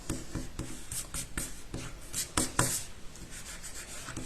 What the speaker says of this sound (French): je vais gommer mes petites traces de crayon de papier